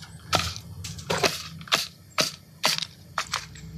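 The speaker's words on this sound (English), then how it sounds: "Fun trick for loading Rival rounds there, guys, is you can just shove the magazine down on top of them." Foam Nerf Rival rounds are pressed into a Helios magazine in a quick series of sharp plastic clicks and crunches, about eight close snaps in under four seconds, with no voices.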